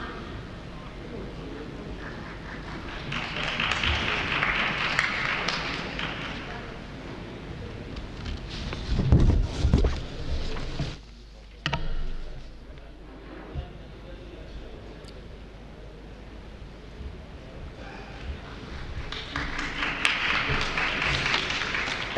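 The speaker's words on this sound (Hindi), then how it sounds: "तालियां बजाते रहिए" An audience applauds in the Central Hall of Samvidhan Sadan during a youth parliament festival, in swelling bursts of clapping with quieter stretches and some talk between.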